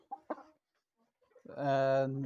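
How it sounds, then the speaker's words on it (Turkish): A rooster crows loudly and close by, a long harmonic call following a few short clucks or voice sounds. "Bu bizim horozumuz"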